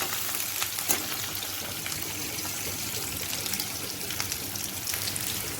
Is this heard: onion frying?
yes